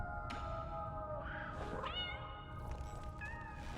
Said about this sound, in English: Cats! It unlocked cats,